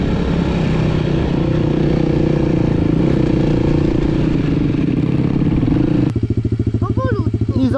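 Enduro motorcycle riding nearby, a steady loud engine drone with clatter that drops to a rougher, pulsing idle near the end, with a voice speaking over it.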